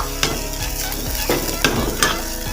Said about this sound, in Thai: หลังจากนั้นเราก็ใส่หมู หมูสับนะครับผม ลงไปคั่ว